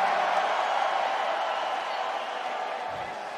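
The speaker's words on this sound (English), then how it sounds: "Listen to that crowd, man." An arena crowd at a UFC event in Louisville roars continuously, a dense, loud wash of cheering that eases slightly toward the end.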